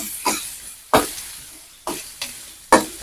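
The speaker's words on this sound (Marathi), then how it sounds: "कांदा घालून घेऊया कांदा छान असं परतून घ्यायचा आहे आपल्याला" Chopped onions with cumin fry in hot oil for a tomato chutney, a soft sizzle punctuated by four sharp, evenly spaced stirring bursts, close and without talking.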